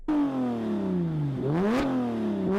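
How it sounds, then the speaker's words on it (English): A Porsche 997 911 flat-six engine revs loudly with a rising and falling tone, the pitch dipping and climbing as it accelerates close by under load. "Let's hear some outside sounds of the car."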